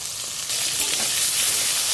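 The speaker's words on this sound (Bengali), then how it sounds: "লবণ, সামান্য হলুদ দিয়ে আমি পটলটা ভেজে নেব লাল করে।" Pieces of pointed gourd with salt and turmeric sizzling in hot oil, a close, even crackling hiss that swells slightly halfway through, with no voices.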